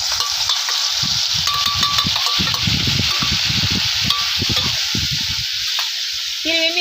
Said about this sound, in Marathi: मिरची आपल्याला चांगली भाजून घ्यायची